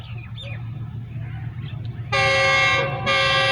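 A train passes at speed through Samanabad railway station in Pakistan, starting with a low rumble before a loud, sustained horn sounds in two long blasts separated by a brief dip.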